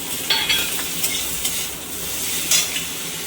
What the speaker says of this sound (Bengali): পেঁয়াজটা একটু ভাজা ভাজা হয়ে গেছে, এর মধ্যে আমি আদা কাঁচা লঙ্কা বাটা অল্প করে দিয়ে দিলাম